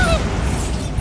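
Bombarda blasting spell going off in Hogwarts Legacy, a short loud booming burst with a rumbling low roar and whistling high streaks that fade within about a second.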